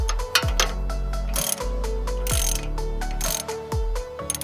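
A hand ratchet tightening bolts on a Toyota Tacoma during tie rod and steering work clicks in quick, close, continuous runs, with brief pauses between strokes.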